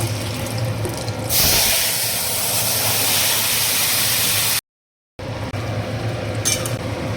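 Cumin, dried chilli and bay leaf hit hot oil for a bottle gourd and prawn-head curry, giving a loud, sudden surge of hissing sizzle that holds steadily, breaks off briefly, then carries on.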